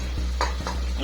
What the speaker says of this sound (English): just stir a little bit for that dhania to settle in well